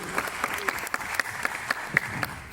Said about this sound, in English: So, good round of applause for Prem now.